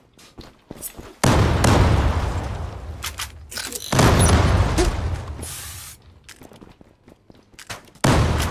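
Explosions and gunfire in the Zula online shooter game, a burst of shots followed by two long, loud blasts with rumbling tails, then more scattered shots and another blast.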